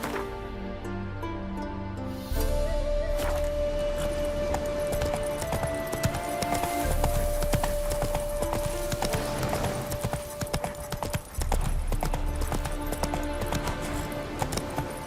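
Horse Roach's hooves trotting in The Witcher 3, a steady clip-clop rhythm close by, running under game music and ambient sound for most of the stretch.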